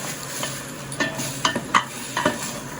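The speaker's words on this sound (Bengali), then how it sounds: "চেরি, আলু বোখরা সব একটু হালকা করে ফ্রাই করে দেবো।" Cherries and plums (aloo bukhara) being lightly fried and stirred in a pan for Kashmiri pulao, with a soft sizzle under several sharp clinks and scrapes of a spoon against the pan.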